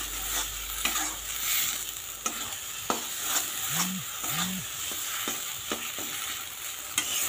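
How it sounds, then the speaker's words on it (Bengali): Coriander leaf paste fries in a pan while being stirred, with rhythmic scraping strokes and soft sizzling heard up close and no talking. "তো এখন শুধু নেড়ে নেব, তাহলে আমার এই রান্না হয়ে যাবে।"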